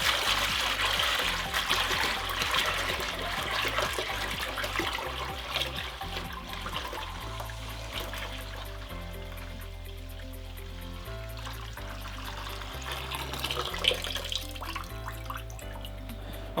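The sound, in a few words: dirty water from air conditioner cleaning poured down drain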